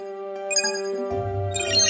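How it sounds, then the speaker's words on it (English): Alarm tone from an Emo personal robot, a steady electronic melody of sustained ringing tones with a low hum entering partway, close and moderately loud with no talk. "You can set an alarm."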